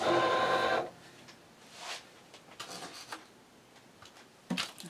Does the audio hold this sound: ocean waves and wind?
no